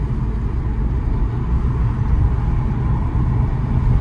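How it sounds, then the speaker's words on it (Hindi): Car driving fast on a UK road at around 100 speed, a steady low rumble of engine and tyre noise from inside the cabin, continuous with no pauses. "काफी तेज चल रही गाड़ी, लगभग 100 की स्पीड पे"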